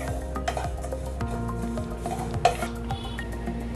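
Oats roasting in a pan for a healthy breakfast drink, a utensil stirring and scraping steadily with soft clinks against the metal and a faint sizzle, close and continuous, with one sharper knock partway through.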